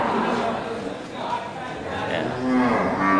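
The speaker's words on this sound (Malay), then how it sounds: "Ya, sapi limosin ya dari juragan yang sama." Limousin cattle moo at a livestock market where prices are being called, low lowing calls rising over steady crowd chatter and nearby talk, one drawn-out moo clearest toward the end.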